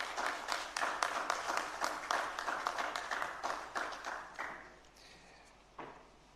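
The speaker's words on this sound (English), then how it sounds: "A round of applause for him." Applause from an audience at a fireside chat on democracy, a dense clatter of many hands that holds steady for several seconds, then thins and fades to a few scattered claps near the end.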